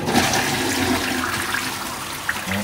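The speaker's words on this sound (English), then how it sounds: "it engaged the flush properly because this is a Seima clean flush and it's a really powerful flush" A Seima Clean Flush toilet flushes with a strong, steady rush of water, loud and close throughout, with small gurgles near the end.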